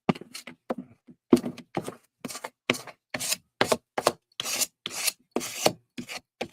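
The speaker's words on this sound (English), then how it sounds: "Fine, I'm gonna use my scraper." Scraper rubbing across paper during mixed media art, a series of about fifteen rhythmic rasping strokes, close and distinct, separated by short silences.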